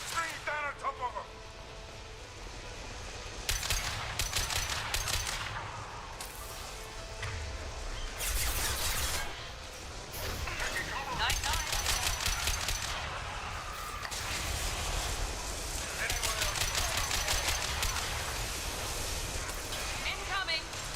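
Bursts of gunfire and crashing impacts from the Mass Effect Legendary Edition video game come in dense, noisy volleys over about twenty seconds, with voices talking between and over the shooting.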